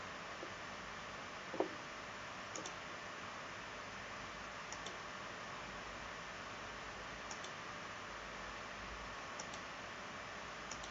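A computer mouse clicks while a dormer is modeled in Revit: a handful of faint, isolated clicks spaced a second or two apart over a quiet hiss.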